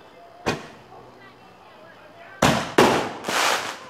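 Fireworks go off outdoors at night: one sharp bang early, then after a pause three booming bursts in quick succession with crackling tails, moderately distant, with no talking.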